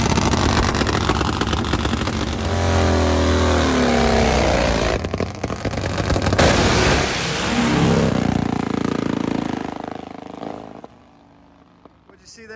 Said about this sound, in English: 731, left lane, flying on that nitromethane Pro Fuel Harley